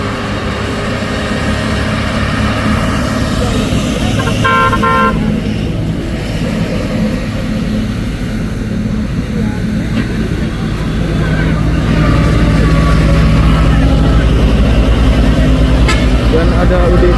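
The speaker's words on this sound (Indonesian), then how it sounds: "ini truk pengangkut mobil bosku" Car-carrier trailer truck, a 4x2 rig, rumbling steadily with loud low engine drone throughout and a brief horn toot near the middle, voices talking over the noise.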